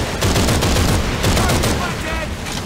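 Light machine gun firing in Call of Duty 3, a rapid sustained burst of loud close gunshots with other gunfire around it and a voice talking over the battle.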